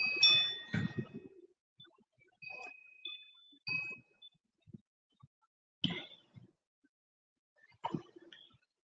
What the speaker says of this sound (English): My wind chimes.